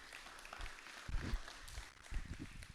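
A church congregation at a Sunday worship service applauds, a soft, distant wash of clapping with a few louder bursts of hand claps rising and falling.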